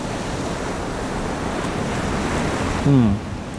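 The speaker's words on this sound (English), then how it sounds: "I find that there is something soothing and calming about the sea." Sea waves and surf make a steady loud wash with wind buffeting the microphone, and a brief low tonal sound near the end.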